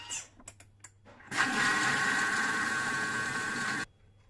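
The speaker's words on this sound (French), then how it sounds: "Et je vais venir programmer 3 minutes, vitesse 4." A Thermomix whisks an apple and mascarpone batter at speed 4, starting abruptly after a few small clicks and running as a steady, loud motor whir for a few seconds before cutting off.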